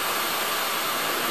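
A lathe hard turning a steel bushing at around 1300 RPM, a loud continuous whirring hiss with a steady broadband rush and no break, no voices.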